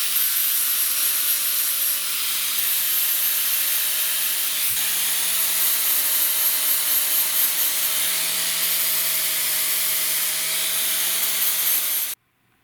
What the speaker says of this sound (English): Now what I need to do is shave off the burrs here.